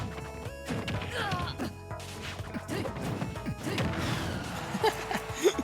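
Smash attacks land in a Super Smash Bros. Ultimate match with Sheik, a run of punchy crashes and thwacks over busy game effects, with a commentator's voice talking throughout.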